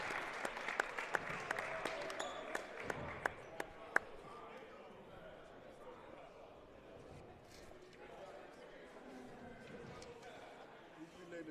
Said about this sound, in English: Let's have a big round of applause for Akil Vaughn, Sean Donlin, and Ryan Penabekos.